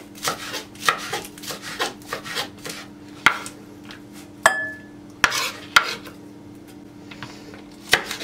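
A knife chopping pepper on a cutting board for a cheese and arugula salad, a run of close, crisp rhythmic knocks with pauses between cuts.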